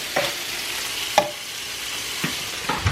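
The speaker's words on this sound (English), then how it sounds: "Jermaine's making bacon" Bacon frying in a home kitchen while breakfast for French toast is prepared, a continuous soft sizzle with a few sharp clatters and scrapes spaced through it, close by and without speech.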